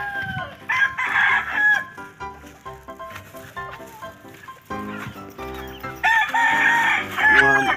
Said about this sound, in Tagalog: Mga alaga ko, mga manok ko.